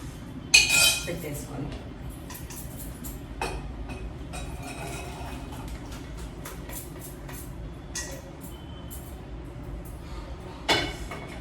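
Utensils and dishes clink while cooked rajma masala is served out after the stove is switched off, with a few sharp, bright clinks over a steady low background hum and no talking.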